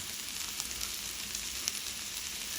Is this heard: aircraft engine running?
no